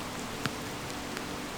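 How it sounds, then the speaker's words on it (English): Rain falls steadily on a hiking trail, making an even hiss of patter with a couple of distinct drops tapping nearby, and no one speaks. "Get inside, get out of the rain for a bit because it is wet."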